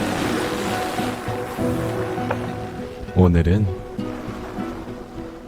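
Ocean waves wash and hiss steadily beneath a music-like tonal layer, while a voice briefly speaks over the surf near the middle.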